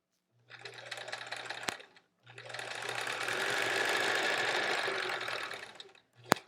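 Sewing machine stitching through chain-pieced quilt blocks in two loud, fast, steady bursts of needle clatter. A short pause falls between them and a brief restart comes at the end.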